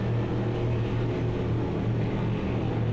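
Race cars in the Automobilista 2 video game hold a steady, droning engine note during multi-class endurance racing at Daytona, a constant low hum with no talk.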